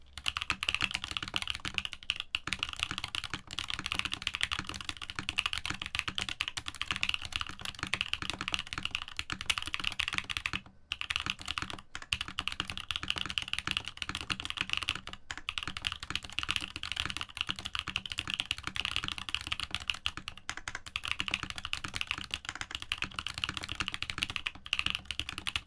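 Mechanical keyboard with CRP keycaps typed on continuously for a long stretch, close and clear, with dense clacky keystrokes and a few brief pauses, no talk over it.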